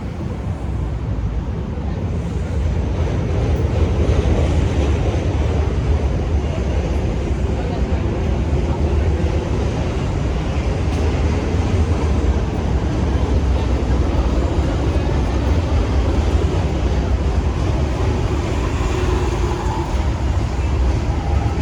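A Chicago CTA Blue Line elevated train rumbles past in Wicker Park near Milwaukee and North Avenue, a loud, sustained low roar that swells and holds, with street ambience and voices mixed in.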